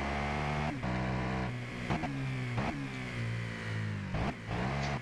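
A KTM 1290 motorcycle engine revs in the racing game Ride 2, rising and falling through several gear-shift surges with brief gaps, loud and up close, with no talk over it.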